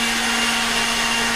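A kitchen blender whirs steadily while mixing a homemade celery seed salad dressing, giving a constant loud motor drone with a fixed tone and no talk over it.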